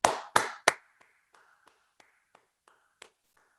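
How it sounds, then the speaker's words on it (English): Applause for a guest after a talk session: three loud, close hand claps open, followed by sparse, faint single claps scattered for a few seconds as the applause dies away. "let's give our guest, Arun, a round of applause"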